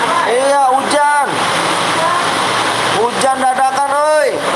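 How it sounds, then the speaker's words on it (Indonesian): Steady heavy rain hiss fills the background throughout, with people talking loudly over it at the start and end. "hujan guys, kirain gua mobil yang lewat."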